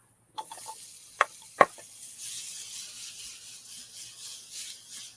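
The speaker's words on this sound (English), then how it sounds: "Can you hear it sizzle?" Pumpkin fritters drop into hot lard in a pan, a couple of sharp knocks followed by a soft, steady sizzle and hiss that carries on at moderate loudness.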